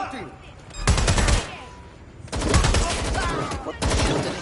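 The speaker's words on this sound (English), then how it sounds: "someone shooting!" Heavy automatic gunfire in Watch Dogs Legion comes in three loud bursts separated by short gaps, close and harsh, with a voice speaking in between.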